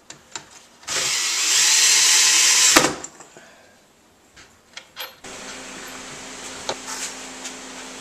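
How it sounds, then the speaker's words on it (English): A power driver drives screws into pre-drilled holes in a wooden zero-clearance insert for a chop saw, a loud two-second whine followed by softer clicks and handling, then a lower steady hum. "I'm going to take the screws and just tighten them up, going right into the pre-drilled holes."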